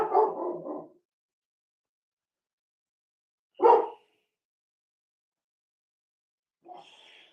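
A dog barks in three separate bursts spread over several seconds, the first a quick series of barks and the later two single, sharper yelps, with silence in between.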